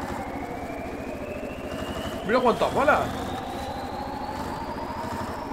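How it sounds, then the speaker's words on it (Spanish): Tractor engine idling in Call of Duty, a steady low mechanical drone with a slowly rising whine running throughout, while a man briefly exclaims over it midway. "¡Esto es un tractor, gente!"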